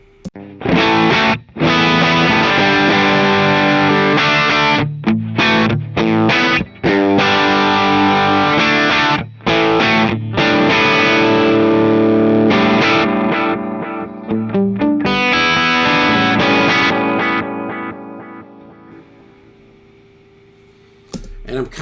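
High-gain electric guitar played through two amps and two cabinets at once, panned apart, with an H90 effects unit in front; loud, dense distorted chords and riffs with brief stops, tailing off near the end.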